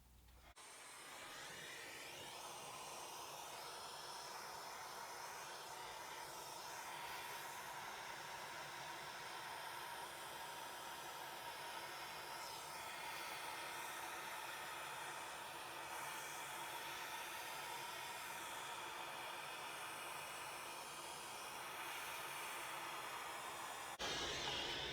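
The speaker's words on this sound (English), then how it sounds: "now what I'm going to do is I'm going to vacuum it." A vacuum held about an inch away pulls loose grass fibres on a model river bank, a steady loud hiss and whoosh that starts within the first second and runs unbroken, without talk.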